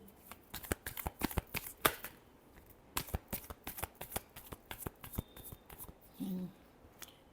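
Tarot cards being shuffled before a reading, a quiet close run of crisp riffling bursts in irregular clusters with brief pauses between them, no speech over it.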